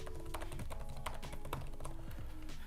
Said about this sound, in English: So let's go ahead and type in my term.